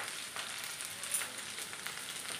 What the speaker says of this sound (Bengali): একটু করলা ভাজা করব।